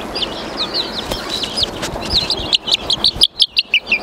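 A young male chick gives quick, high, repeated chirps in rapid strings, growing louder and more distinct toward the end over a busy background hum.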